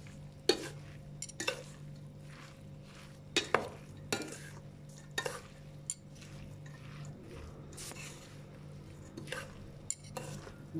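Spoon stirring a flatbread filling of sumac, cumin and olive oil in a bowl, with soft wet scraping and repeated sharp clinks against the bowl recurring every second or so, close and fairly quiet.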